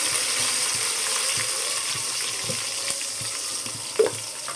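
Garlic and onions fry in a pan with a light continuous sizzle and a soft regular scraping rhythm from stirring, plus one sharp metallic clink near the end, close and without any talk.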